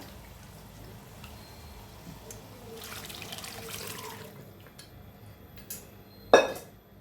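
Water is poured into a pot of cooking potatoes, a soft steady splash and trickle in a home kitchen that swells in the middle and ends with a brief clatter.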